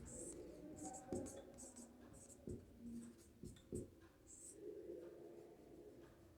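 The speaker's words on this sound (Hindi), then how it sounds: "मैं लिख रहा हूं" A pen scratches across paper by hand during a lecture in quiet strokes and short taps, close and soft, while someone speaks in a low voice over it.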